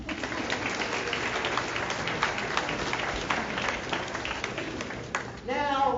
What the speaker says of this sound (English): Give yourselves a round of applause for enjoying breakfast today.